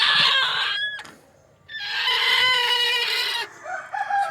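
Loud, close native country chicken calls, a rooster-like crow and throaty clucking, in two bursts separated by a brief pause, with no one talking.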